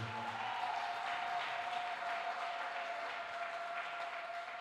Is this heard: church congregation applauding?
yes